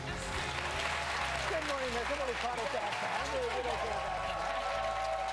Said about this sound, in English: Wow, excited crowd here on this Martin Luther King Jr. Day.